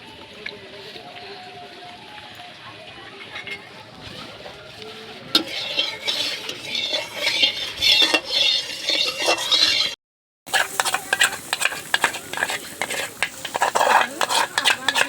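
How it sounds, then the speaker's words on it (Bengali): Whole cumin seeds are stirred while roasting in a dry pan, with scraping strokes and light metallic clinks that grow busier and louder midway, broken by a brief silent gap. "গোটা জিরে, এটা আমি শুকনো খোলাতে ভেজে নেব।"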